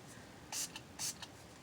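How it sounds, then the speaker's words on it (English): Two quick hissing spritzes from a Milani makeup setting spray aimed at makeup brushes, each about a tenth of a second long and spaced roughly half a second apart, close and crisp over quiet room tone. "Where's my spray for my brushes? I'll just use Milani."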